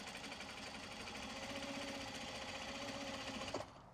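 A sewing machine stitches in a fast, even mechanical chatter, close and steady for a few seconds before stopping with a clunk, no talk.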